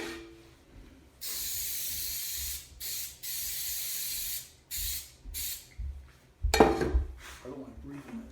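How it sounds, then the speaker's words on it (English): Several bursts of aerosol coconut oil cooking spray hiss in quick succession onto a Teflon-coated pan, fairly close, with short pauses between, followed by a clatter of the pan. "I'm going to spray this Teflon coated pan with some coconut oil."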